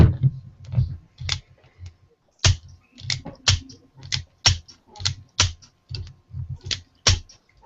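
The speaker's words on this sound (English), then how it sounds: "you don't like to hear that gun clicking?" Sharp, irregular clicks from a video game gun, each one short and crisp, come in bursts separated by brief silences.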